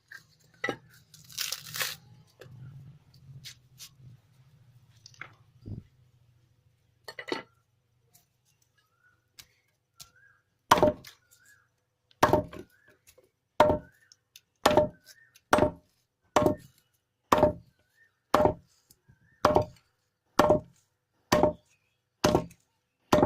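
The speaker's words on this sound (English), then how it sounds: "Take this husk and cut into the small pieces like this." Dry coconut husk being chopped into small pieces with a blade, starting with some rustling and scattered crunches, then a steady run of about a dozen sharp, evenly spaced chopping strikes, close and fairly loud.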